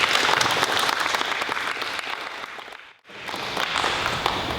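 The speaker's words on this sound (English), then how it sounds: "A round of applause for your student council representatives." Crowd applause at a fifth grade recognition day for student council representatives: loud, dense clapping that dips to near silence for a moment, then swells back up and carries on.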